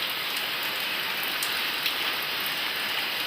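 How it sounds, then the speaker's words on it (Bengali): Steady rain falls continuously, a dense even hiss of drops with no pauses and no voices. "বৃষ্টি পড়ছে দেখো"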